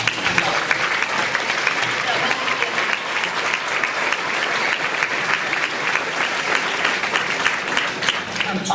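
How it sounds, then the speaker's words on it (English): An audience claps at a Wheelock school production of Mary Poppins, a loud, dense and sustained round of applause with a crowd murmuring beneath it, continuing evenly for several seconds. "I want to give a big round of applause also to the classroom teachers"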